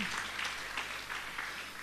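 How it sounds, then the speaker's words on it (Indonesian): A church congregation applauds during a Sunday worship service, steady dense clapping filling the room at a moderate, fairly distant level with no voices over it. "Mari berikan tepuk tangan."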